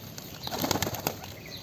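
Pet pigeons shuffle and flap about after feeding, getting ready to go back into their box, giving soft wing flutters and faint rustling at close range, with no voices.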